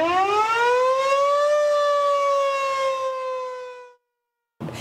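A tornado warning civil defense siren wails in one long, loud, steady tone that slowly rises, then cuts off, leaving brief silence before it sounds again.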